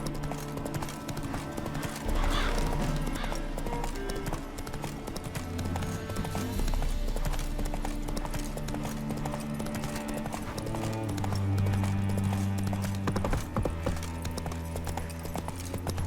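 Geralt's horse Roach trots along in The Witcher 3, with steady rhythmic hoof clip-clops running throughout and ambient game music and tones layered underneath.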